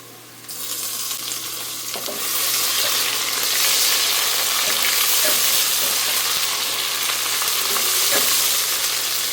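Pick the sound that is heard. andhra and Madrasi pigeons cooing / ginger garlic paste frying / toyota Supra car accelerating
ginger garlic paste frying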